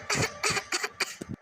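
A woman coughs repeatedly in a short burst of about five or six dry, close coughs in quick succession, with no talking.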